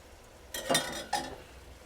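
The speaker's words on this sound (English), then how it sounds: "And we stir." Saffron risotto stirred in a pan, two soft scraping swishes of the spoon through the thick rice, quiet and close with faint background hiss.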